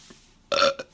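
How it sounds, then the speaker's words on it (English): A single loud burp breaks a quiet room, with a short second gulp right after it. The belch is close and stands alone, with no talk over it. "If I had just ended this at 10 minutes, you wouldn't have even heard that belch"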